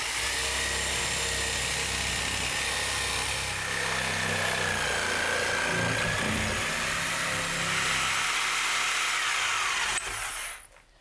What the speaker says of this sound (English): So now we just cut out the extra sheetrock.